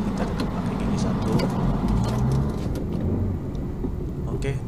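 A manual car creeps along in first gear at a toll road, its low engine drone and road rumble steady and close throughout, with faint background noise and no clear speech.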